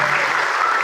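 A brief burst of steady audience applause at a community event in Abra, Philippines, a short dense patter of clapping.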